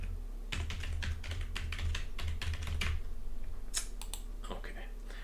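A password is typed on a computer keyboard, with quick bursts of crisp key clicks in irregular rhythm, a pause, then a few more taps, heard close against a faint room hum.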